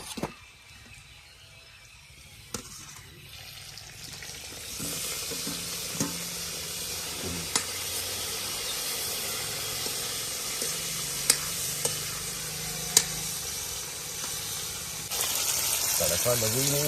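Food sizzles and fries steadily in ghee in a hot pan as tomatoes go in, with occasional clinks of a utensil stirring, the crackle growing louder toward the end.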